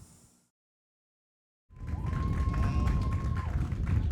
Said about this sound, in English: Hear the crowd cheering here at Durfee as Carrero gets up on her own power